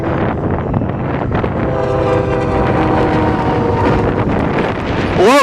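A westbound double-stack freight train led by an EMD SD70M locomotive rumbles past close by, a loud continuous roar of rolling wagons with heavy wind buffeting throughout, ending in a brief rising squeal.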